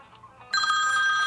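A phone starts ringing halfway through after faint background sound, a loud steady electronic ringtone with bright tonal chimes.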